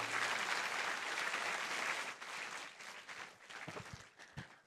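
Workshop audience in Chennai applauding, a dense, fairly quiet wash of clapping that thins out into scattered claps toward the end.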